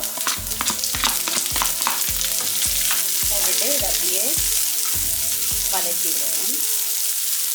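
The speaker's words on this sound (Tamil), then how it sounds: "இப்போ இந்த வெங்காயம் வதங்கட்டும்" Sliced onion sautéing in a pan for kale fry: a loud, close, continuous sizzle with a regular series of firm spatula strokes about twice a second, then lighter scraping toward the end, no voices.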